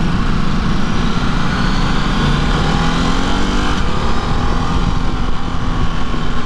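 A Ducati DesertX adventure motorcycle engine drones loudly and steadily while riding in touring mode, a constant torquey hum mixed with heavy wind rush, with no talking.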